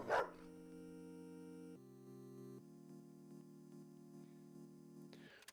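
A dog lets out a short bark at the start, then quieter whimpering and whining tones carry on indoors for several seconds at low volume.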